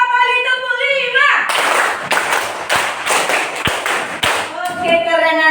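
Schoolchildren in a classroom clap a counted rhythm together, several sharp synchronized claps in quick bursts, with children's voices chanting before and after.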